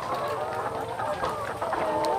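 Chickens given as government aid to a community group, clucking in a coop: repeated soft clucks and calls from several birds at mid distance, with faint background voices.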